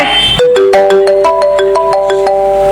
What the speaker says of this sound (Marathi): आईचो मोबाईल कसो वाजलो